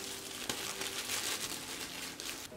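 A plastic hair processing cap crinkles as it is pulled on over hair, a close, continuous rustle and crumple with a sharper snap near the start.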